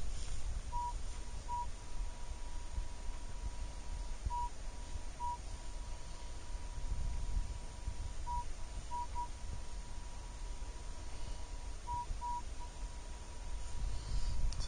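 A Minelab CTX 3030 metal detector with its coil passed over a ring gives several short, faint electronic beeps in small groups over a low hiss.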